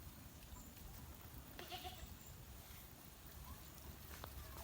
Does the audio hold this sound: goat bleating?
yes